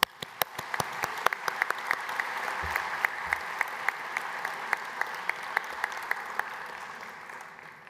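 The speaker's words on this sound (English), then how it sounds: "So a big round of applause for yourselves." A large audience at a King's Business School graduation ceremony claps steadily in sustained, dense applause, individual sharp claps standing out in the near field throughout, with no talking over it.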